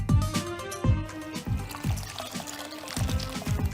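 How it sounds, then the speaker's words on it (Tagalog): Water is poured into a container to make salted soaking water for citrus fruit peel, a close, gurgling pour with bubbly rhythmic glugs over a few seconds and no talking. "Prepare po tayo ng tubig at lagyan din ng asin."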